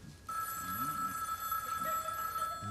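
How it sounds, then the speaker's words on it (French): A telephone bell rings indoors in a steady, bright, continuous tone that carries on to the end, with faint voices underneath. "Le téléphone non plus, ils l'entendent pas."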